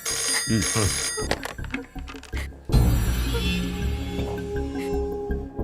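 A telephone rings with repeated electronic bursts, fairly close, followed by a denser stretch of mixed background sound.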